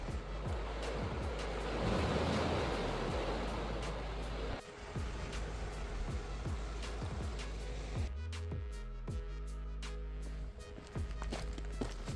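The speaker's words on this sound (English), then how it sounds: "down here, you can hear the water" Water splashes and trickles nearby at a swimming hole by the ocean on the Lycian Way in Türkiye with a rushing wash, joined by crunching footsteps that become clearer and more rhythmic partway through.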